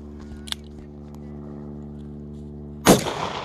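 A single loud, close gunshot from a .45 Long Colt cowboy revolver fired one-handed at an outdoor range, a sharp crack near the end following a steady low engine-like hum.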